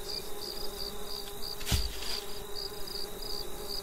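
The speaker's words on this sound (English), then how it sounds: "Stop the bees!" Steady insect buzzing from bees swarming in the horror video game Lakeview Cabin, a continuous high drone with no voices and one brief thump midway.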